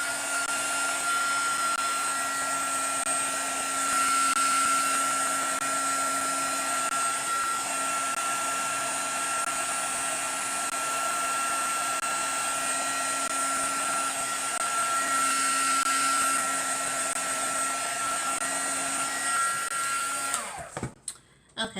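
Heat tool blowing hot air onto alcohol ink on a coaster: a steady, close whirring fan drone with a constant tonal whine, running for about twenty seconds before cutting off with a clatter.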